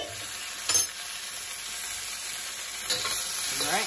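Tofu frying in a pan with a steady close sizzle throughout, broken by a couple of brief scrapes and knocks as it is stirred.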